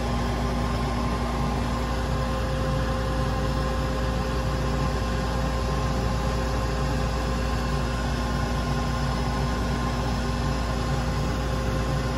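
A unit heater's inducer motor runs at a steady pitch during a heating cycle, giving a loud, constant hum and whoosh with a fixed tone that holds unchanged for about twelve seconds, with no talking.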